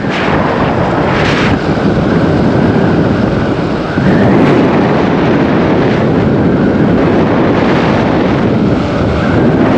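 Strong wind roars continuously across the microphone while riding over a bridge, a loud buffeting rush with low rumbling gusts throughout, as if riding fast in the open air.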